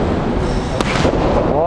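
A single straight punch thuds once into a heavy boxing bag during a boxing training session, a short sharp impact partway through, surrounded by steady, loud broadband background noise.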